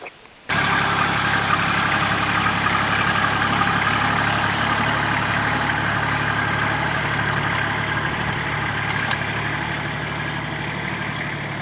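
A Kubota tractor with a Rhino PT207 two-basket hay tedder hooked up starts running suddenly and keeps up a steady, loud, close engine drone with an even low hum for the rest of the stretch.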